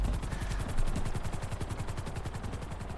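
A helicopter in the video game GTA V with steady, rapid rotor chopping that stays loud and close throughout, no talk over it.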